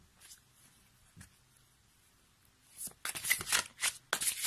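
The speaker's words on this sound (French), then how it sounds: "on va compléter notre tirage avec les licornes magiques de Dorine Virtue." A Doreen Virtue magical unicorns oracle deck is shuffled for a reading, first with faint isolated card flicks, then a close, dense burst of riffling and sliding cards near the end.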